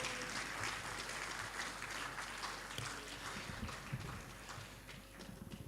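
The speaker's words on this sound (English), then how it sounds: "Can we give him a 20 million naira applause" A forum audience at the AMUMAF Impact Forum 2025 applauds steadily, a dense, continuous crackle of many hands clapping that holds for several seconds and thins slightly toward the end.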